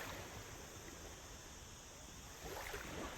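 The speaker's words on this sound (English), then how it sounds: "You can hear the gentle rhythm of the waves moving toward the shore." Gentle waves roll toward a shore in a steady, soft wash of surf, continuous and unhurried with a slight swell near the end, no voices present.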